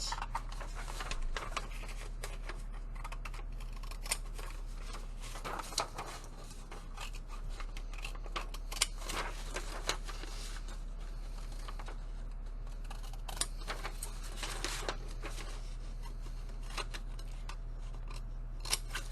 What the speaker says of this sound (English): I'm going to cut a frame by, I cut to the corners first.